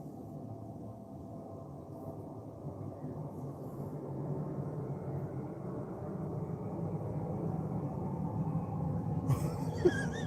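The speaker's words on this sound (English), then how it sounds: "Can you hear this airplane going over?" A low, steady drone of an airplane passing overhead, growing gradually louder over the stretch, with no talking.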